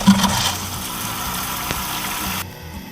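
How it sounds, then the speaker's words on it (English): Water from a garden hose rushes through a brass toilet supply valve fitting, making a steady hissing gush that cuts off abruptly just before the end. "Water flowing freely."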